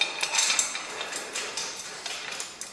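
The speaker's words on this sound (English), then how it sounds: "Hand tighten with the Allen wrench." Light metallic clinks and taps of an Allen wrench hand-tightening a bolt assembly on the grid of a merchandising display, a close, irregular series of small clicks without talk.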